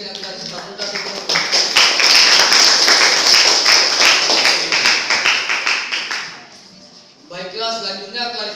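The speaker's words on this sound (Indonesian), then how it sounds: "Mari kita berikan tepuk tangan yang meriah" Audience applause for a student team of accounting education undergraduates at a university showcase event: dense clapping swells and holds loud for several seconds, fades, then a speaking voice takes over near the end.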